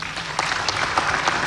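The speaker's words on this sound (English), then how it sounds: "I ask that you give them another round of applause." Brief burst of audience applause for African Union chairperson candidates at a debate, dense hall clapping with a few louder individual claps, heard alone.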